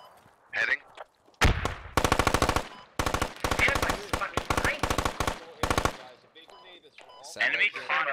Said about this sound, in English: I am taking heavy fire